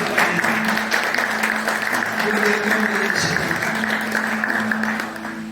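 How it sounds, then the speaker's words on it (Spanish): Church congregation applauds during a sermon, a continuous wash of clapping with sustained tones from music or a held note beneath, fading slightly toward the end. "Den un aplauso al Rey"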